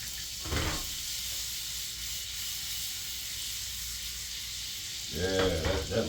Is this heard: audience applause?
no